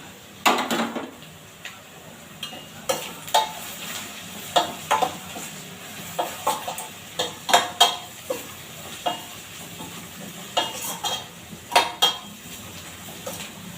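Utensils scrape and clatter against a pan at an uneven pace while onions and fennel seeds softly sizzle underneath; no one speaks.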